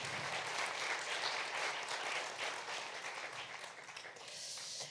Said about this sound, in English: Big applause for Monica